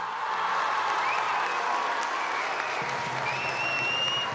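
Warm welcoming applause for Pope Francis from inmates at a women's prison in Chile, steady dense clapping from a crowd sustained throughout, heard at a moderate distance with faint voices mixed in.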